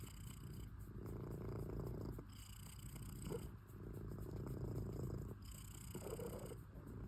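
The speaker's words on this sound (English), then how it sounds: "purring is a sign that your cat is happy" A contented cat purrs steadily up close, a low continuous rumble pulsing in slow breath-paced waves for several seconds, with no other sounds.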